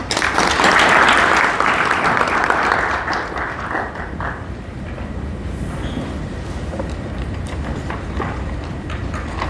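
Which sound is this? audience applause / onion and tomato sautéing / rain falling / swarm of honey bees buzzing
audience applause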